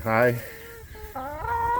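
Hens in a crowded 5x10 chicken tractor give a few close, short clucks and a drawn-out squawk, with a voice speaking briefly alongside them.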